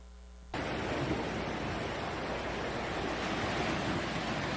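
Ocean waves wash ashore on a beach near Fukushima in a steady, loud broadband roar of surf, continuous and close with no voices, after a brief quieter moment at the start.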